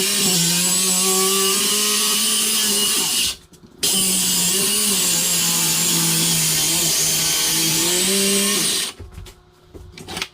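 Power saw blade cutting the sink opening during a sink installation, a loud close whining buzz that runs steadily, stops briefly, resumes, then cuts off near the end.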